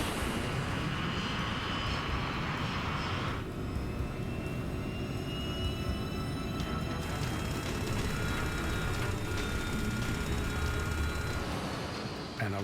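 Airliner engines roaring during a takeoff roll on a runway, a sustained loud droning rumble with a broad whine that shifts pitch partway through and continues steadily to the end.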